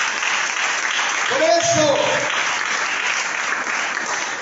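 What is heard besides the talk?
church congregation applauding the Lord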